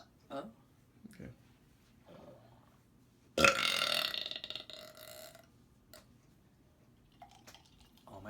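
A man lets out a single loud, drawn-out burp after soda, rough and gurgling, standing out clearly from faint surrounding clicks and quiet room noise.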